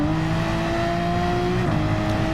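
A Porsche race car in Gran Turismo 7 holds a steady, loud engine drone at a near-constant pitch, dipping slightly near the end as if lifting off, with no talk.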